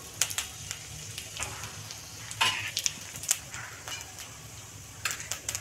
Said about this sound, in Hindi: जीरा चिटकने लग गया है